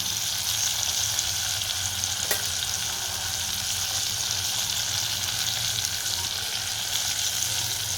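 Ivy gourd (tondli bhaji) sizzles steadily in a pan, a continuous close frying hiss with faint stirring, no talk.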